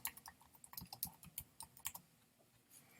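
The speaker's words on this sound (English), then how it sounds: "So I'm going to type that in." Quiet typing on a computer keyboard, an irregular run of soft, close key clicks with short pauses, alone in a still room.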